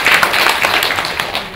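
Audience applause at a book concert, dense steady clapping from a crowd filling the whole moment at close range.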